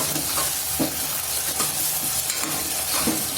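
Green chilies and ginger garlic paste being stirred in a hot pan for veg pulao, a steady sizzle with a few soft scraping strokes of the spoon at an even pace, close by and without talk.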